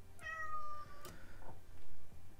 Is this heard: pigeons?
no